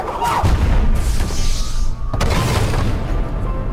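Explosions in the video game Ori and the Blind Forest: two heavy, deep booms, one near the start and another about halfway, each followed by a loud rumbling roar.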